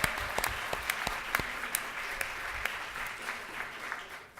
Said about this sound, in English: So big round of applause to you all.